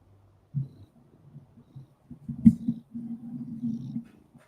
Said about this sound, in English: Can everybody hear the purrs?